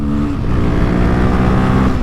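A 2024 Royal Enfield Himalayan motorcycle engine revs hard while riding twisty roads, a loud, close, sustained droning roar climbing steadily in pitch with no voices.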